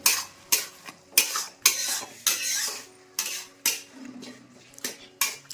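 A wooden or metal spoon scrapes and stirs tomatoes sautéing in a pan for a tomato chutney, in sharp repeated strokes about every half second over a low, steady sizzle, near and clear with no talking.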